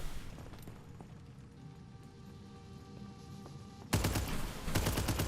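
Shadow bullet gunfire in Elden Ring Nightreign: quiet game ambience with a faint hum, then sudden loud rapid bursts of shots crackling in two close volleys near the end.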